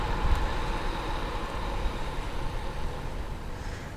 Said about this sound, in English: It's a light rail Metrolink station.